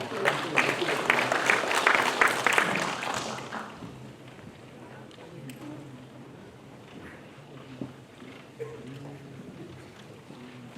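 An audience at a Confucian culture forum applauds to welcome a provincial council vice chair, with about three and a half seconds of moderate clapping that then gives way to quiet hall ambience and faint shuffling.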